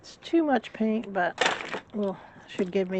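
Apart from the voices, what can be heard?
None of the usual background noises is heard.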